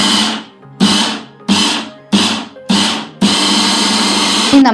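An Inalsa hand blender chops beetroot and onion in short repeated bursts, five brief pulses of whirring motor followed by one longer continuous run, loud and close with no talking.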